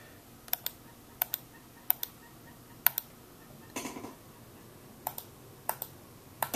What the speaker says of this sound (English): So you can see here, I'm clicking.